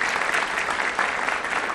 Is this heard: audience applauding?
yes